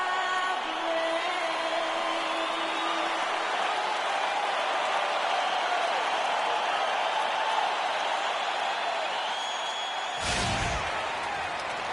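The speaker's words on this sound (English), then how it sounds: "The crowd is assembled here at the FedEx Forum, downtown Memphis, Tennessee" Dense arena crowd roar at the FedEx Forum in downtown Memphis during an NBA 2K basketball game, a steady loud wash of cheering that runs unbroken, with a sharp thump near the end.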